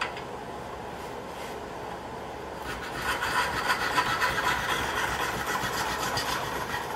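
A mahogany turning saw fitted with a rough, fast-cutting blade working through wood, faint at first and then a steady, louder rasping of repeated strokes close by.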